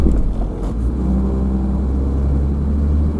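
A car on MAXTREK studless tires pulls away again after stopping on an uphill curve. A low, heavy engine rumble rises as it accelerates, close and steady, with no talking over it.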